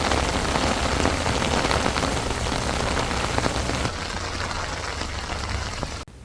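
Heavy monsoon rain pours steadily in a dense, loud roar throughout, easing slightly near the end before cutting off abruptly.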